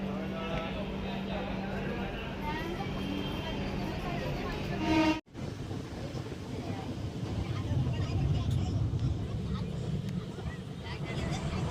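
Konkan Kanya express train pulling out of Thane station, a steady rumble and rolling noise from on board with a sudden brief dropout midway, a voice speaking over it.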